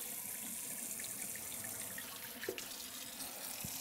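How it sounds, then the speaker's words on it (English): Hot water runs steadily from a tap into a sink to rinse an embroidery block, a continuous hissing splash with a faint clunk partway through. "Get some hot water in there."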